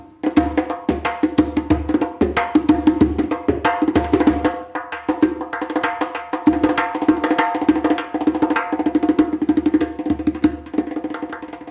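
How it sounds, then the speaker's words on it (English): Nagara drum beating in a driving, rapid rhythm with resonant low strokes and sharp accents, loud and continuous against a sustained droning tone, with no voices. "What you just heard there was the Nagara beating at Bhagirathi's heart"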